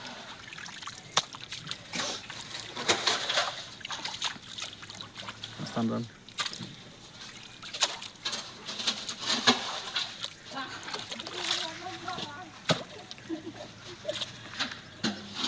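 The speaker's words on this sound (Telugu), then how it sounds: "తుంగులో నీళ్ళు చల్లి చేపలు పడుతున్నాం." Water sloshes and splashes in irregular bursts, with trickling in between, as water is splashed into a muddy pit to catch fish, while people talk nearby.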